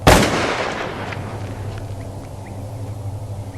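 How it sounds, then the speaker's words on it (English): A single loud shotgun blast cracks outdoors on a farm, followed by a long rolling echo that fades into low ambient rumble. "Was that a shotgun?"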